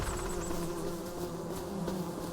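Bees buzzing in a farming video game, a steady close drone of several insects with wavering pitch held continuously, over a faint background hum and with no talking.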